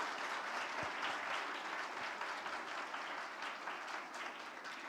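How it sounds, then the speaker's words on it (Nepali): Church congregation at a children's Christmas event claps in thanks to God, a steady, fairly distant sustained round of applause with no voices. "हामी ताली बजाएर परमेश्वरलाई धन्यवाद चढाउनेछौँ"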